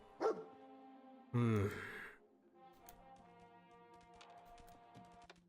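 A dog barking in the video game Fallout 4: two sharp barks, the second louder and longer, followed by quieter game sounds.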